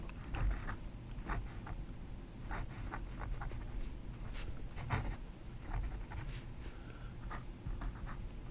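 Small gold nib of a vintage Italian Stilus fountain pen scratching across paper in quiet, close strokes and short taps, a faint scritching rhythm over a low room hum.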